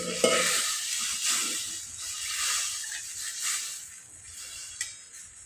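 Water hits a hot pan holding besan with turmeric and coriander powder, raising a soft sizzling hiss that swells and fades as it is stirred, with a small clink near the end.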